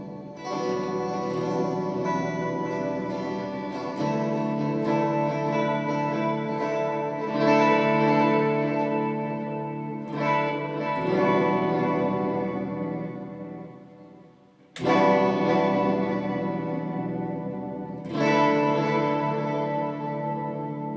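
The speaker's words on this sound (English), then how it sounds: "We hear the electric guitar with the reverb." Electric guitar played through an amp with its reverb switched on, chords ringing out with long washy tails, stopping and restarting in several strummed phrases with sharp new attacks, no talking.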